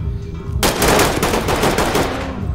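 Gunfire in the tactical shooter game Ready or Not: after a quiet half second, a loud sustained burst of rapid automatic shots rattles on close by for two seconds with no talk over it.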